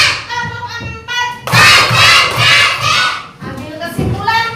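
Children in an Islamic lesson clap their hands in a counted rhythm, with sharp, even bursts of claps sandwiched between stretches of their chanting voices.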